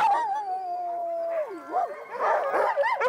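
Sled dogs in the Yukon howl in a long wavering tone that slides downward, then break into overlapping yips and barks, close and clear with no talking.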